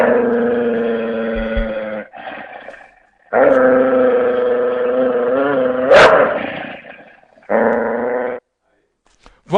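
An angry dog sound effect plays on a Brazilian TV talk show, with several loud bursts of deep, throaty growling and snarling barks separated by short pauses.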